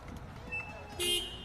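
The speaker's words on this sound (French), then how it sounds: "Eh, klaxonne pas, hein." A car horn gives two short toots, a brief one and then a slightly longer honk, with voices talking around them.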